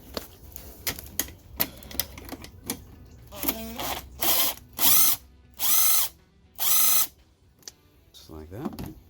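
A ratchet loosening bolts on a Subaru engine bracket, close up: quick bursts of clicking at first, then several longer, louder buzzing turns, followed by a few more scattered clicks.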